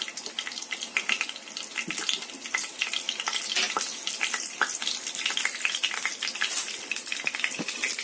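Mustard, cumin and fenugreek seeds with dried red chillies crackle and sizzle in hot oil for a tempering, a dense steady frying hiss dotted with sharp pops throughout, close and with no talk.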